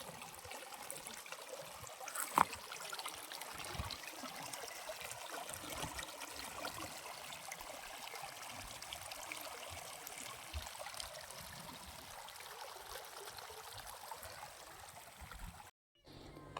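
Irrigation water runs through a channel on a wheat farm, a faint, steady trickling flow throughout, with one brief knock early on and no voices.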